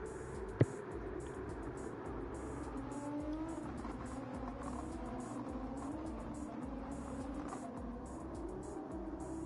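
Race cars circling the Monza circuit, a continuous engine roar from the pack that swells slightly as cars go by, moderately distant, with a sharp click near the start.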